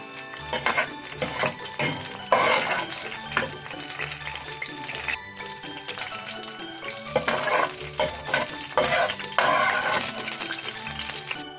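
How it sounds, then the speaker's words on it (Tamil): Cashews and raisins roasting in ghee for paal payasam give a continuous bubbling sizzle, with stirring scrapes and clinks of a spoon against the pan coming in bursts, close and moderately loud. "முந்திரி திராட்சை வறுந்துடுது"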